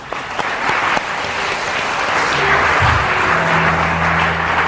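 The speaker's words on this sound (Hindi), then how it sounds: "लेडीज एंड जेंटलमैन, सबसे पहले तो संपा आर्या जी के लिए बहुत सारी तालियां।" Studio audience at a talk show breaks into sustained, loud applause for a guest, dense clapping filling the room steadily throughout with no talk over it.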